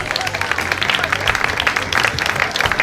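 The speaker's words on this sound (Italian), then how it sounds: "se voi volete intanto fare un applauso" Audience applause at a regional Miss Italia beauty pageant final in Veneto, a dense steady clapping that carries through the whole stretch with some crowd noise and faint voices underneath.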